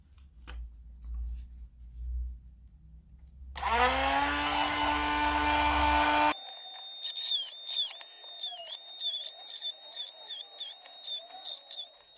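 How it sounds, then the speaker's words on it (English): After a few seconds of low rumble, a small Dremel rotary tool whirs up to a high-pitched whine, then shifts to a sharper, wavering grinding tone as it cuts through plastic, up close. "So we've got our trusty Dremel drill"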